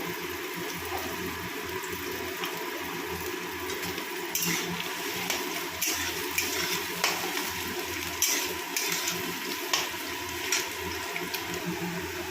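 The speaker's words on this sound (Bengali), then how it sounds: "আলু আর গাজরটা ভাজা হচ্ছে" Potatoes and carrots frying in a pan: a continuous soft sizzle with faint bubbling and occasional light scrapes or clinks, steady and close throughout, no talking.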